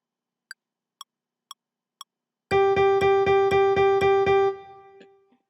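Four crisp metronome clicks set the pulse, then eight quick, evenly repeated tones run straight through a 4/4 measure as eighth notes, two to each beat, before the final note fades away.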